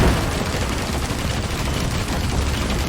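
Dense, continuous gunfire roars through a fight against an enemy in the Risk of Rain 2 video game, a loud unbroken wash of rapid shots with no pauses or speech.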